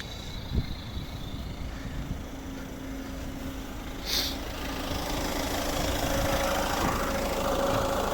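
A 2015 Peugeot 308 SW with a 1.6 HDi diesel engine idles at a steady, moderate level, its even low clatter and hum holding constant with a faint tonal whine.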